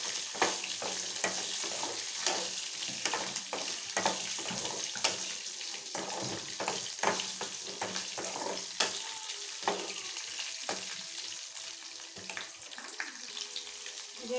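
Green chillies roasting in a pan for gongura pachadi crackle and hiss loudly, with frequent scraping and clattering from stirring throughout.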